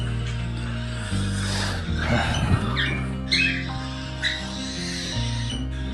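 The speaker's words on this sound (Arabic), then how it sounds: "الطيور توترت ما عاد تاكل" Pet birds squawk in harsh, repeated bursts close by, over a steady low background hum, with a few sharper calls near the middle and end.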